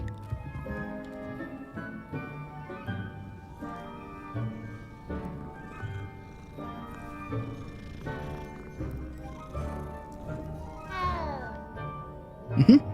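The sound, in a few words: cat meowing in Hogwarts Legacy video game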